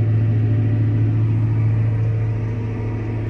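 A tractor pulling a rotary hoe through sunflowers for mechanical weeding, a loud steady engine drone with a low, constant rumble and no pauses.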